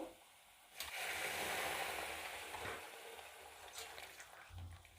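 Lukewarm water poured into a pan of masala paste frying in oil sets off a loud burst of sizzling that holds steady for several seconds and then slowly eases, with a brief splash near the end.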